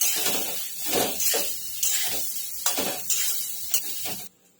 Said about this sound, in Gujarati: ચપટી બધું મિક્સ કરી લઈશું અને ઢોકળા એડ કરી લઈશું મિક્સ કરી લઈશું